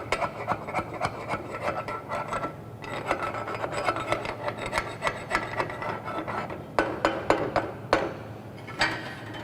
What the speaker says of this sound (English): after cleaning by using a wire brush, you have to clean